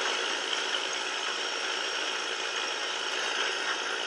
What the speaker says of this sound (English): It's a very loud tractor though.